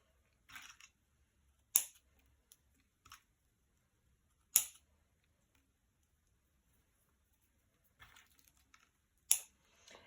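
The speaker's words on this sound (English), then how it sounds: "all I'm going to do is just trim the little ends of the stem off on these" Scissors trim the small ends off flower stems for a cardmaking project, a few sharp, quiet snips spaced irregularly through a mostly silent, close-up stretch.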